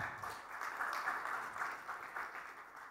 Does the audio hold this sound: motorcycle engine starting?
no